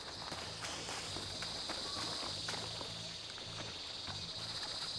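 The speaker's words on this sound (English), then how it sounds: "Cicadas are so loud." Cicadas buzz in a continuous, steady high drone in the video game Horizon Forbidden West, loud and unbroken, with footsteps and soft thumps from the game moving beneath it.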